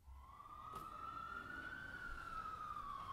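A single ambulance siren wails in the distance, its tone slowly rising and falling over a quiet, low background rumble.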